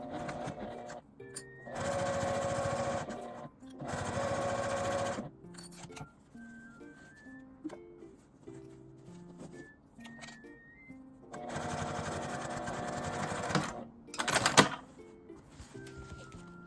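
A sewing machine whirs in several bursts of rapid stitching along a 5 mm seam on a fabric square box pouch, separated by quiet pauses with light handling noises, close and fairly soft.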